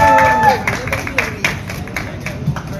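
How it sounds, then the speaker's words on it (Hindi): An audience claps together as a microphone is handed to two guests on stage, a steady burst of applause mixed with crowd noise and scattered voices. "पहले हम ताली बजा देते हैं तुम्हारे लिए।"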